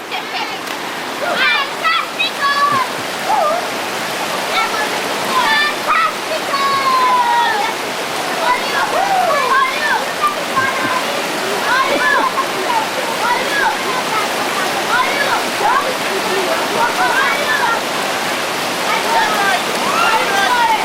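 Victoria Falls in Dominica, a constant loud rush of falling water at a picnic site, with excited children's voices and chatter heard over the roar throughout.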